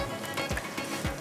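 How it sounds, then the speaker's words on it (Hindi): Fried onion tarka poured over mutton biryani sizzles in a steady broadband hiss, with a couple of soft low thumps as the onions land, close and moderately loud with no voices. "अब प्याज का जाएगा इसके ऊपर तड़का"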